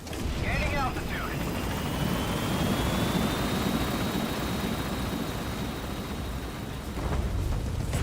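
In Metal Gear Solid V, an extraction helicopter lifts off with a broad, continuous rotor roar and a rising turbine whine, loud and close, with brief chirps early on and a voice speaking.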